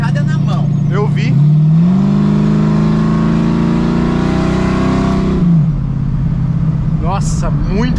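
A Chevrolet Chevette fitted with a V8 engine revs up hard, its deep rumble climbing in pitch and holding a loud, steady roar for several seconds before dropping back to idle, with people talking over it.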